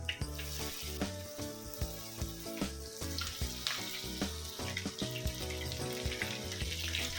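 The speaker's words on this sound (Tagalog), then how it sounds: "mag-iinit tayo ng mantika at piprito na natin" Chicken wings seasoned with fish sauce and sugar frying in hot oil in a pan, a dense, continuous close sizzle and crackle with small popping bursts throughout.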